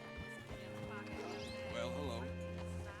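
A horse in Red Dead Redemption 2 whinnies and snorts with a few hoof clops, heard over background music and someone talking.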